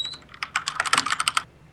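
Fingers tap rapidly on a computer keyboard right beside the microphone, a quick burst of crisp, clicking keystrokes in an uneven rhythm that stops after about a second and a half.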